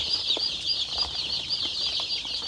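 Chickens flap their wings and shift about as they slip on a bamboo perch in a coop in Dangjin, South Korea, with soft irregular wing flutters over a steady high-pitched background hiss.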